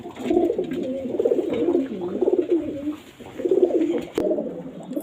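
Soft, low pigeon cooing repeats in rolling, throaty phrases close by, with a brief click near the end.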